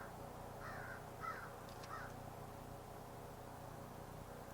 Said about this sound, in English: Okay, the crows are talking to us. Can you hear that?